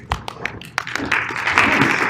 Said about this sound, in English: It's okay, I can be the only one clapping.